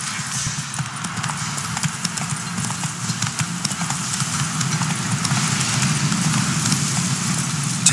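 Steady rhythmic clip-clop of Roach's hooves as Geralt rides in The Witcher 3, a continuous trotting beat over a low rumbling ambience, loud and close throughout.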